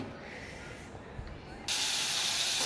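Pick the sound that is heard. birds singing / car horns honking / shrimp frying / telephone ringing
shrimp frying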